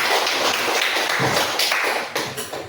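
A classroom of pupils claps hands together, a dense burst of overlapping claps that carries on steadily for a couple of seconds before thinning out.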